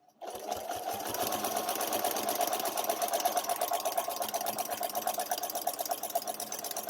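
A sewing machine stitches binding onto a quilt, running a steady, fast mechanical chatter with a pulsing needle rhythm that holds at an even, close, loud level throughout after a brief quiet start.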